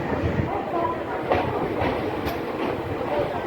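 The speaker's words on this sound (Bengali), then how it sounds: "আমাদের ট্রেন ছেড়ে দিল বোলপুর শান্তিনিকেতন স্টেশন।" The 12363 Intercity Express pulls out of Bolpur Shantiniketan station on the Kolkata to Rampurhat line, heard from inside as a steady rumbling roll with faint rhythmic wheel clacks and soft background voices.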